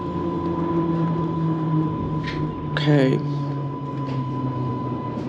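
A GWR battery train pulling into the bay platform at West Ealing: a steady onboard hum and rumble, with a brief rising squeal near the middle as it slows, and a voice talking over it.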